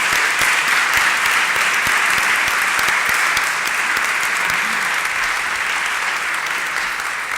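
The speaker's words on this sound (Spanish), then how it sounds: "Yo creo que les podemos dar un aplauso a los 5 intervinientes." Audience at a conference presenting a draft mediation law bill in València applauding five panel speakers, sustained dense clapping that holds steady for several seconds and slowly tapers toward the end.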